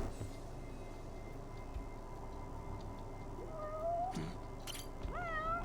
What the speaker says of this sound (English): I knew I heard a cat somewhere.